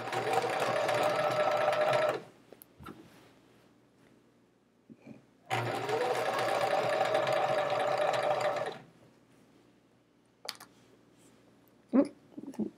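Sewing machine stitching the rows of a chevron-pattern quilt together, running loud and steady in two long bursts of about two and three seconds, with quiet handling and small clicks between them.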